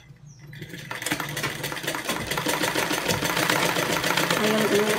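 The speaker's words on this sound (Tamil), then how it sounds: "இப்போ இதில் ஒரு தையல் போட்டுக்கோங்க." A sewing machine stitches the front section of a blouse, its rapid steady mechanical whir starting after a brief pause and building closer and louder over about four seconds.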